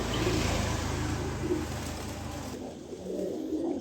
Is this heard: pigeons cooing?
yes